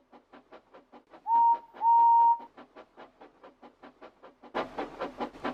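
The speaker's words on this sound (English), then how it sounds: "Normally, Henry would struggle with such long, heavy trains, but with his new firebox, he felt he could do nearly anything" TOMY toy train engine pulling a long, heavy goods train, a steady rhythmic chuffing with two short whistle toots early on, then a louder rumbling stretch at the end.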